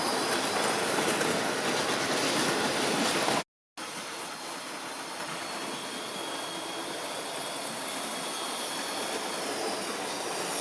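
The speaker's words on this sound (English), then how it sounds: "it being a Gresley loco, I've given it one final run past at a faster speed." A Hornby tender-driven LNER A3 Gresley model locomotive runs past at a fast scale speed, giving a loud, steady rolling rumble of wheels on track with faint rhythmic clicks, broken by one brief dropout and then continuing alone.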